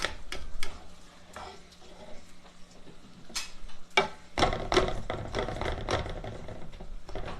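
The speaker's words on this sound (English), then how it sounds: "I'm just mashing apples, if you wonder what I'm doing" Apples are mashed in a pan for a bacon and blue cheese chutney, with scattered close scraping, thumping and squishing strokes over a faint sizzle.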